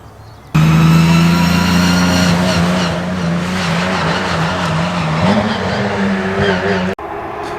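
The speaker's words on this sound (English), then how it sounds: "now is the open wheel testing" Open-wheel race cars, including a 1960s Lotus and F5000 and F1000 cars, roar down the main straight at Oulton Park during a testing day, a loud sustained engine howl with shifting pitch and gear changes close by that cuts off abruptly near the end.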